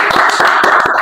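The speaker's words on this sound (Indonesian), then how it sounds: "Kita akan sambut tepuk tangan yang meriah." An audience at a community podcast taping in Surabaya claps to welcome a guest: a brief, close burst of quick, uneven handclaps.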